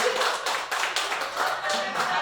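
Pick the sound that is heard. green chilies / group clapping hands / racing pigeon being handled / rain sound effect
group clapping hands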